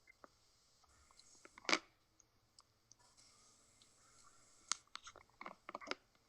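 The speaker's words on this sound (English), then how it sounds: "Stop chewing, whoever it is." Chewing and crunching on an open call microphone, faint and intermittent, with scattered clicks and a louder bite-like burst, set against low background hum with no speech.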